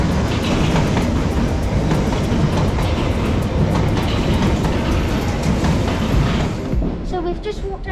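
A London Underground Bakerloo line train rumbles loudly and continuously along the track near its depot, with rhythmic clatter that fades toward the end.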